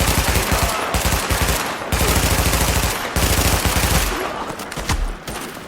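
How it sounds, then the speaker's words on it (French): Loud, rapid bursts of automatic gunfire in long sustained volleys from the video game The Division, broken by brief pauses, followed by scattered single shots and echoing reports. "C'était un coup de feu."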